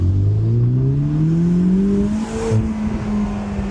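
A 2025 Ferrari Roma Spider in race mode accelerates hard with its turbos spooling, the engine note climbing steadily through the revs, loud and close, with a brief dip as it shifts before pulling on again.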